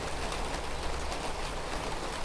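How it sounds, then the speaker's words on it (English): Heavy rain pours down steadily with water running from a downpipe, a dense continuous close wash of noise with no talking. "And then the rain came down heavy."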